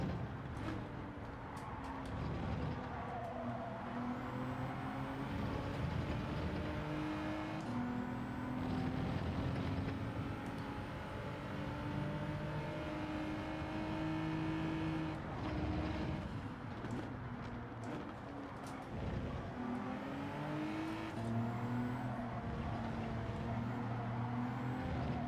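A Genesis G70 race car engine drones and shifts pitch continuously on the Yas Marina circuit in Gran Turismo 7, loud and sustained with rising and falling revs throughout.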